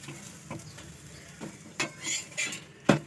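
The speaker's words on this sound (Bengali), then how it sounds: "অল্প অল্প আমি এখানে তেল ছড়িয়ে দেবো। দেখতেই পাচ্ছ অলরেডি এক পিঠ হয়ে গেছে, আর এক পিঠ আমি ভেজে নিচ্ছি।" Aloo paratha browning on its second side in a pan with a little oil spooned over it, a soft steady sizzle broken by several sharp scraping and clinking spatula strokes, the loudest near the end.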